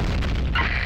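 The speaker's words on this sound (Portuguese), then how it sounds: "Bomba na área!" A bomb explodes in the shooter game Combat Arms, one deep loud boom filling the moment with a rumbling tail, no talk.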